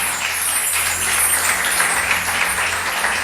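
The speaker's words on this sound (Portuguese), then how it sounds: "Aplaude Jesus por essa palavra, irmãos." Church congregation applauding during an evangelical sermon, a steady, continuous wash of many hands clapping at even volume, with no clear gaps or individual claps standing out.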